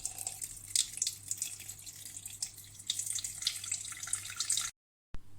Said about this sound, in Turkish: Kabın içerisine 1 kilo 200 gram kadar su ilave ediyorum.